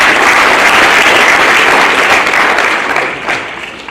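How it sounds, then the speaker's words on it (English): At a senior academic awards ceremony, a large audience claps loudly and continuously, a dense wash of applause that holds steady and then slowly fades near the end. "So if you would give a round of applause."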